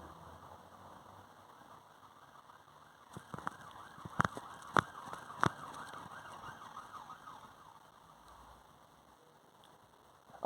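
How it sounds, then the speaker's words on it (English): An emergency vehicle siren passes in the distance, a faint wailing tone rising and falling steadily for several seconds, with a few sharp knocks partway through and then fading. "sorry about this siren going by"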